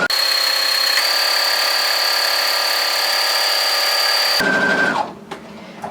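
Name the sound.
sewing machine stitching a cushion seam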